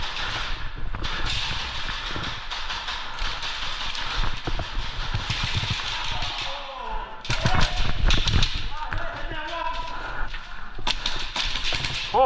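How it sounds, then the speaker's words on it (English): Airsoft guns firing blind during an action airsoft match, rapid clattering bursts of shots and sharp taps, fairly close, with players talking over and between the volleys. "Oh, that's blind fire, buddy."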